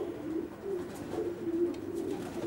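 A racing pigeon hen gives soft, low, repeated coos, close and fairly quiet, against a faint steady background.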